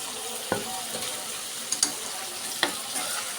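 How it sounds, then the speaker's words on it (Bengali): Taro stems stir-fry in a spice paste of ground cumin, sizzling steadily at close range with a few sharp clicks of utensils against the pan and no talking. "মশলার সাথে এখন ছড়িটি কষিয়ে নেব।"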